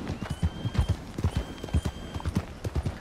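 Horse hooves gallop in a steady, rapid clip-clop rhythm in Red Dead Redemption 2, loud and close, with a faint high tone running behind the beats.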